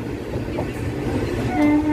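A train between Madurai and Virudhunagar, India, running beside a four-lane highway, rumbles past with a steady low roar and faint rhythmic clatter, a horn-like tone sounding near the end.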